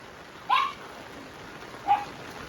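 Rain falls steadily outdoors at a home shelter for about a hundred rescued stray dogs, a soft constant hiss broken by two short sharp dog barks, one early and one later.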